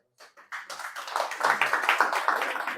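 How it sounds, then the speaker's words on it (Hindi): Audience applause at a Hindi sales seminar for a network business, starting with a few scattered claps and building into steady, dense clapping from a crowd at close range, loud and without talk. "तालियों से स्वागत चाहूंगा"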